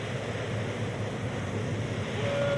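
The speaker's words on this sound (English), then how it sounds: "Louis' first signs appeared as windswept waves started crashing onto the sandy beaches" Windswept surf from Hurricane Luis in 1995 rushes onto a sandy beach as a steady, dense roar of wind and crashing water, with no voices.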